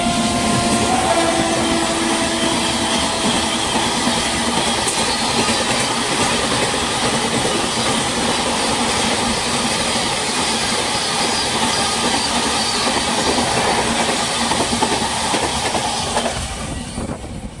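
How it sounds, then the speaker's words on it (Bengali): The Purushottam Express rumbles at speed out of Chunar Junction, a loud continuous roar with rattling wheels and hiss, easing slightly at the very end. "চুনার জংশন থেকে বেরিয়ে যাচ্ছে ট্রেন আমাদের, দেখো দ্রুত গতিতে"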